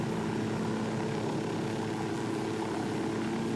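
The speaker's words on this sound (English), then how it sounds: "you'd think they'd notice and hear a helicopter" Helicopter in the video game Ghost Recon Wildlands, a steady droning rotor and engine hum that holds constant throughout, fairly loud and with no talk over it.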